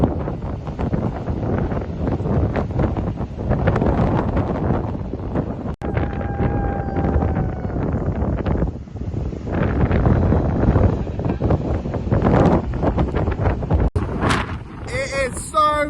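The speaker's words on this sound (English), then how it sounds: "It is so windy. I think it genuinely feels like we could be blown away." Strong wind gusts roar against the microphone on the exposed coast at Giant's Causeway, a constant loud buffeting that continues throughout while a person talks over it.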